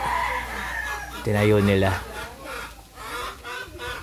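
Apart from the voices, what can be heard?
chickens clucking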